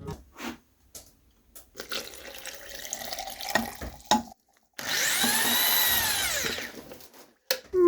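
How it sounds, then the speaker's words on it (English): Water poured into gypsum powder in a mixing container in a workshop, heard as a steady splashing, hissing pour lasting a few seconds after scattered clatter and knocks, then cutting off. "Adding the water into the powder is way easier."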